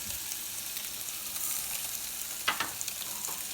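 Steady broadband sizzling hiss of a turkey searing as it goes into a hot oven, with a few sharper crackles and pops near the end.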